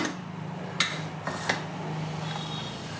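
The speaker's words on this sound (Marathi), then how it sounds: "आणि मी आता कुकर बंद करते" Metal clatter of a pressure cooker lid being shut over cooking dal: two or three sharp clanks against a low kitchen hum, close and moderately loud, with no speech.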